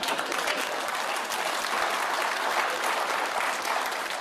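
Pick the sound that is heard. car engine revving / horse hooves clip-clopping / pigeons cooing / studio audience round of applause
studio audience round of applause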